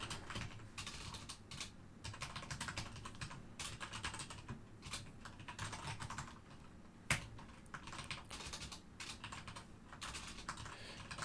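Steady, rapid typing on a computer keyboard while writing C++ code, with dense clicking keystrokes continuing throughout and one sharper, louder key strike partway through.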